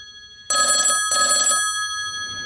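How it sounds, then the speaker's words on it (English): A telephone rings in two loud, closely spaced bursts of an electronic bell tone, the second trailing off into quiet room noise, with no talking over it. "Oh, your phone's going, Paul."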